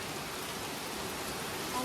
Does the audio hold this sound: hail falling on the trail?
yes